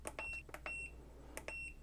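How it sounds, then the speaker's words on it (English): FNIRSI DWS-200 digital soldering station emits short, faint electronic beeps in a quiet room, a few tones spaced apart with soft clicks between them. "If you do not like that beep being super loud, we can adjust that."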